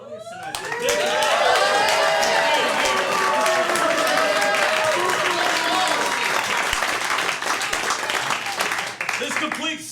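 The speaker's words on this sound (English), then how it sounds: "a round of applause for Joel, one of our actors who is in the au" Audience applause at a late-night comedy show taping, a dense, steady wave of clapping mixed with cheers and whoops that swells quickly and holds for several seconds before thinning slightly.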